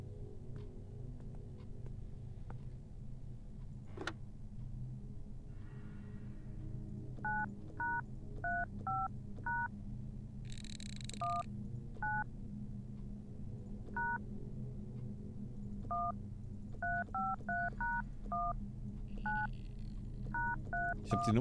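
In the LUTO video game, someone taps a telephone keypad and produces a series of short, distinct dialing beeps in irregular clusters over a steady low hum, with a brief ringing chirp partway through.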